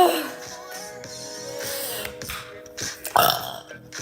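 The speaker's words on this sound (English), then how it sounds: "I'm sorry if you guys hate burping." A girl burps loudly and at length at close range, a drawn-out, rumbling eructation followed by a second shorter burst near the end.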